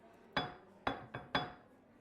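Dishes set down on a hard surface in a kitchen, three sharp clinking impacts spaced about half a second apart, close and clear with no talk.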